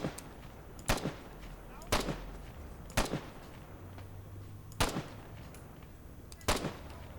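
Gunfire in ARMA 3 Global Mobilization, set in Cold War Germany: sharp, loud shots spaced roughly a second apart, each with a short rumbling tail, plus a low engine-like hum beneath.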